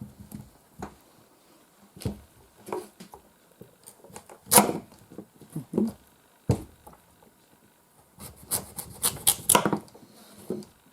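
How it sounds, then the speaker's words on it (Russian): Irregular knife cuts and scraping through a firm pumpkin on a board, with scattered sharp chops and rubbing strokes at close range. "Так, значит, начинаем резать тыкву."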